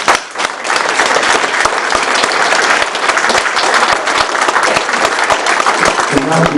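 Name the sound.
audience applause at village board meeting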